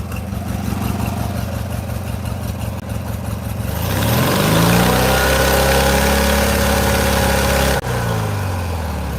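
A small engine idles with a steady low throb, then is revved up hard and held high for several seconds before dropping back; it seems to be running lean at the top of its range.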